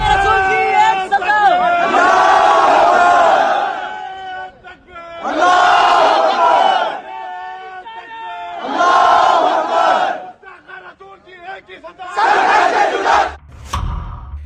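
A crowd chanting slogans in rhythmic, shouted bursts, several loud massed phrases separated by short pauses, with raised voices close and overlapping throughout.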